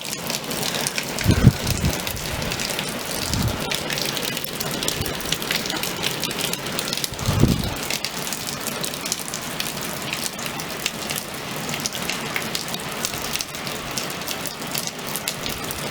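Steady monsoon rainfall from a small storm hisses evenly for the whole stretch, with a couple of brief low thuds early on and no voices.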